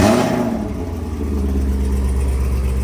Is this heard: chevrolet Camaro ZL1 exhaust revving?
yes